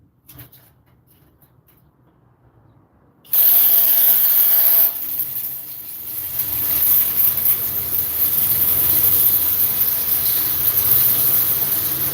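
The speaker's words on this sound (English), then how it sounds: "So what I do is I drill one side." A power drill boring into wooden window trim on a construction job, a loud steady whir that kicks in abruptly after a quiet start and keeps running with a shifting pitch.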